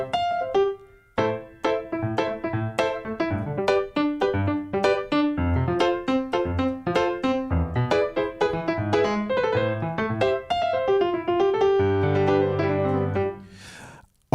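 Nord keyboard grand piano sample with compression applied, played as a lively run of quick notes and chords with punchy, even attacks, close and steady for most of the passage before ending on held low chords.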